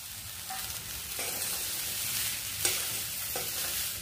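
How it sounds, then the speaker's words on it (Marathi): Chopped boiled potatoes fry in spiced oil in a pan, giving a steady close sizzle broken by a few sharp stirring scrapes. "सर्व मसाले तेलामध्ये व्यवस्थित आपल्याला फ्राय करून घ्यायचे."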